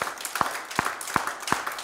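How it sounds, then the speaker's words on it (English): A church congregation claps during a Sunday service, a few sparse, evenly spaced hand claps about every third of a second, moderately loud over a soft hum of background voices. "Give him another hand clap."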